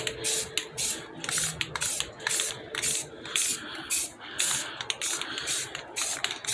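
An aerosol can of Rust-Oleum Painter's Touch 2X primer sprays onto car rims in short hissing bursts, about a dozen light passes separated by brief pauses, close and steady.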